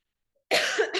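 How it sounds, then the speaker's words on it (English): One sharp, close cough, followed by a quick second catch of breath, after a moment of silence. "I hope you didn't mind all my coughing."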